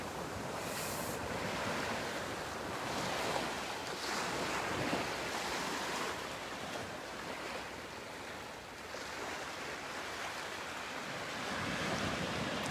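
Ocean waves crashing on the shore in a continuous roaring wash, swelling and easing at intervals, with wind buffeting the microphone and no voices.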